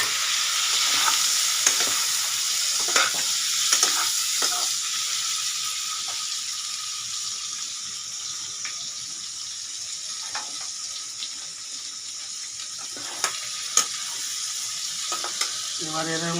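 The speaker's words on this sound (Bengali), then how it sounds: "বন্ধুরা এই যে আলু ঢেলে দিচ্ছি, এবার মাছটা লাল লাল মতন হয়ে দিচ্ছে।" Potatoes and fish fry in a pan with a continuous bright sizzle, broken by occasional scrapes and clinks of stirring, close and steady throughout.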